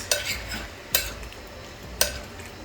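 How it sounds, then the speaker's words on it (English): Spices are stirred into a creamy southwest soup, three distinct clinks of a utensil against the pot spaced about a second apart over a soft background rustle. "once all the spices have been added, give it all a nice mix"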